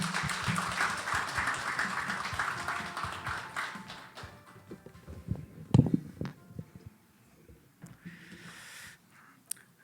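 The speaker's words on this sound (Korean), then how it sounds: "여러분 의장님을 뜨거운 박수로 환영해 주시기 바랍니다" Audience applause at a general assembly and conference of the Korea Healthy Cities Partnership greets the chairman; dense clapping fills the first few seconds, then thins into scattered taps and a few sharp knocks.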